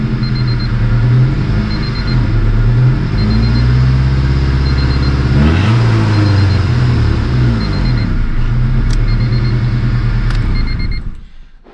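A 1990 Ford EF engine, running on bad gas and needing new spark plugs, idles loudly with an uneven low thrum and slight misfires, revs once midway, then cuts off at the end.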